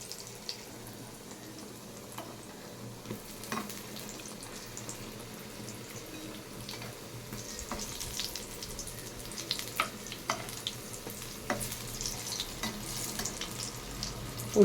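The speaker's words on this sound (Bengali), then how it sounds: "বেগুনি কটাকে ছেড়ে দিলাম ভাজতে।" Beguni, battered eggplant fritters, fry in oil with a soft, low sizzle and scattered light pops and crackles that grow a little busier over time, quiet and without voices.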